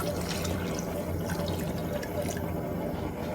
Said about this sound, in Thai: นำหม้อตั้งไฟอีกครั้งหนึ่งแล้วก็เติมน้ำลงไปค่ะ